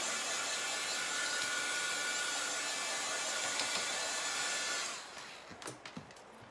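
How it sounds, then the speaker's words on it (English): A hair dryer blows steadily and close up for about five seconds, drying chalk paste on a Chalk Couture transfer, then cuts off, leaving brief light taps and handling noises. "I'm going to go ahead and dry this. Make sure that it's dry the rest of the way."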